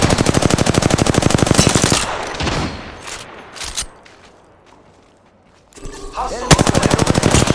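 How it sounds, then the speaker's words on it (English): Automatic weapon fire in the video game Apex Legends, with loud rapid bursts at the start and end and a quieter stretch of scattered shots and movement between them. "The enemies are shooting at me."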